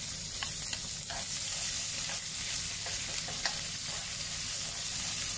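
Onion frying in a pan for a canned sardine and upo (bottle gourd) dish, a steady close sizzle with occasional stirring scrapes, no talking.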